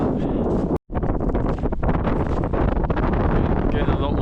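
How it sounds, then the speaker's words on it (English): Strong gusting wind roars and buffets the microphone during a mountain snow storm in Norway, loud and continuous with a brief dropout, a voice faintly present beneath. "Getting a lot more windy now up here."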